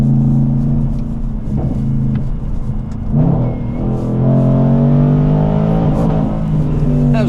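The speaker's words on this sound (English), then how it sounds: "That was the rev limiter." A straight-piped, supercharged 500bhp Jaguar XFR engine revs hard and loud, with harmonics climbing and holding at a steady ceiling, bouncing against the rev limiter with a raspy, stuttering drone.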